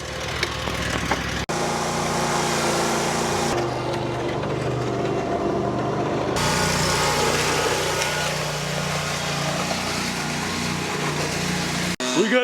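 Several leaf blowers roar continuously and loudly up close during a leaf cleanup, their engine drone shifting in pitch and intensity as units change, with a voice partly buried under the noise.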